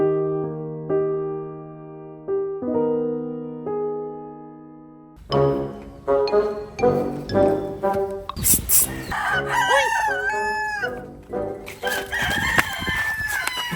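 A rooster crows loudly several times, long rising-and-falling calls with other crowing overlapping, close by and clear.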